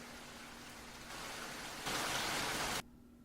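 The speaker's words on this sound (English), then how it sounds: "Rain." Steady rain sound effect played over a voice call during a Dungeons & Dragons tabletop session, a constant broadband hiss that swells louder partway through, then drops sharply to quiet with a faint hum.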